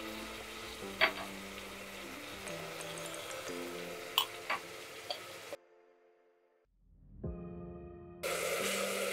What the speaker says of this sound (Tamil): இந்த வெங்காயம் நல்லா வதங்கி ப்ரௌன் கலராக வரணும்.